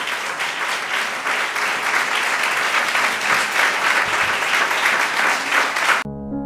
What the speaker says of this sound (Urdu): آئیں یسوع کے لیے زوردار تالیاں بجائیں